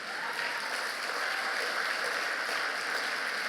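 A church congregation applauding during a sermon, a dense, even wash of clapping that holds steady from start to finish.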